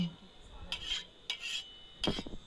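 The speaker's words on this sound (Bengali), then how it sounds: "তাওয়া চারিদিকে সাদা তেলটি লাগিয়ে দিলাম" Oil is spread around a metal tawa griddle for a street-style egg roll: three short, bright metallic scraping strokes, close and separated by brief pauses.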